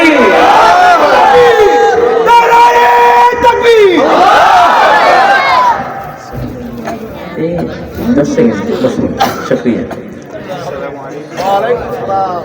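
At a Bangladeshi Islamic gathering, a large crowd shouts loud, drawn-out chanted calls in unison. The shouts swell in waves, then a quieter stretch of scattered voices and chatter follows.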